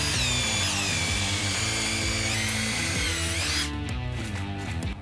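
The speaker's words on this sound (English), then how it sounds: "I'm actually gonna drill holes around the outside of the cambium layer" Loud, continuous whine of a power drill boring holes into a tree stump, pitch shifting slightly as it works, close and uninterrupted.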